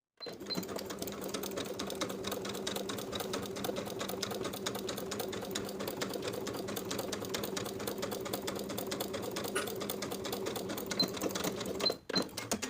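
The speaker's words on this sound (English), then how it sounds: "we'll sew this seam allowance that we pressed toward the lining, sewing it to the lining with about 1/8 of an inch seam allowance straight across" A sewing machine runs steadily, stitching a pressed seam allowance to a dress bodice lining in one continuous straight pass, its rapid even needle chatter close and constant until a brief pause near the end.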